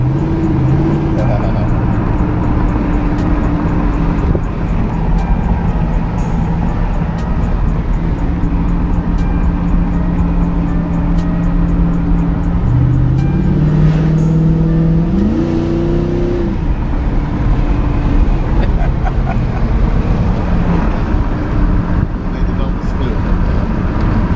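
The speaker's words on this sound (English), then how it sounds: "with that fuel pump swap, you can barely tell the car's been running" A Chevrolet El Camino engine idling and running after a fuel pump swap, a steady, fairly loud rumble with a brief rise in revs midway, while people talk over it throughout.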